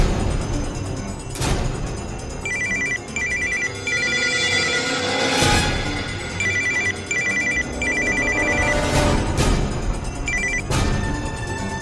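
A telephone rings indoors with an electronic ringtone in repeated short bursts, set against background music and occasional dramatic booms.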